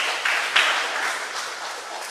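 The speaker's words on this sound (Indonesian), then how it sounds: "Tepuk tangan untuk kita semua." Audience applause at a blogging and social media branding workshop for teacher bloggers, a dense steady wash of clapping across the whole stretch, fairly loud and even with a slight swell near the start.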